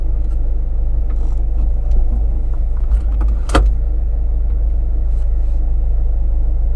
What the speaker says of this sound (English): I can see a very big truck of some form behind me.